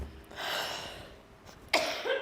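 A short, breathy cough close to the mic during a relaxed indoor crafting session, followed by a sharper burst near the end.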